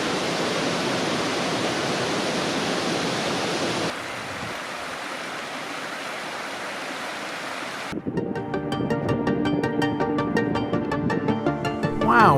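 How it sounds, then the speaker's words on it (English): A creek pours across granite slabs near Wapama Falls, a broad, steady rush of water that stays up close and continuous, shifting texture partway through with a brighter, fuller roar at the end. "The creek flows across granite slabs in uncounted paths."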